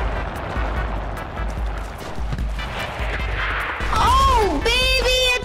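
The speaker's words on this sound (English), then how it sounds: "Grenade out." Gunfire and a grenade blast ring out in the WW2 shooter game Enlisted, a dense rumbling barrage followed by a sharp whistling, wavering tone near the end, loud and continuous.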